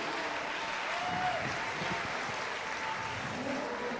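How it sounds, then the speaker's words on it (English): An audience at a county youth fair and livestock show applauds steadily throughout, a moderate, even patter of many hands that rises and falls only slightly. "Let's give all four of those kids a round of applause."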